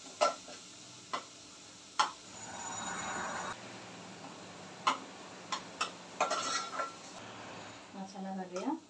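Onions sautéed for a chickpea dal, a spatula tapping and scraping the pan in scattered strokes between bursts of gentle sizzling, close but fairly quiet.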